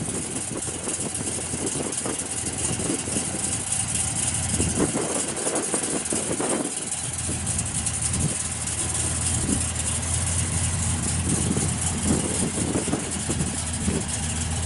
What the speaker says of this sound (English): Got a nice set of stock type mufflers on it, so it's not real loud, but you can sure hear the camshaft in it